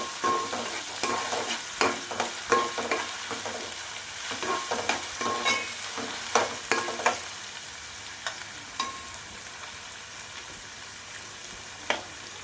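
Ingredients frying in a pan for chicken curry while being stirred: a steady quiet sizzle with frequent irregular scraping and clinking strokes of a utensil, busier at first and thinning out toward the end.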